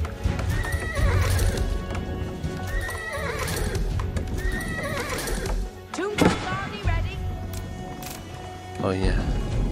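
Horses neigh and whinny repeatedly in Age of Empires 4, their calls ringing out over steady clip-clop hoofbeats and busy battle ambience, with someone talking over parts of the mix.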